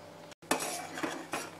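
A spoon stirs a mixture of just-boiled milk and dry ice cream powder with GMS and CMC in a pot, giving close scraping swishes and light metallic clinks, briefly interrupted by a short silent gap.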